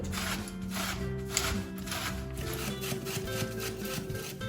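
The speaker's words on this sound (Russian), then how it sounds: "И теперь также на крупной терке натру свеклу." Beetroot is rubbed against a coarse kitchen grater in a quick, continuous rasping scrape. It is close and fairly loud, with no talking.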